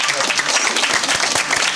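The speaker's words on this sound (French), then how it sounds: "Et c'est un tonnerre d'applaudissements pour Claudette et Gaston." Thunderous applause from a crowd in the Belgian village of Léglise, dense rapid clapping that stays loud and even throughout the short stretch.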